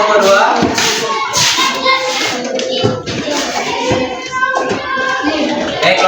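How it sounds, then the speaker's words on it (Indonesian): Third-grade children in an elementary school classroom break into loud, sustained applause for the first group, a dense wash of many small hands clapping together with young voices mixed in. "tepuk tangan untuk kelompok 1"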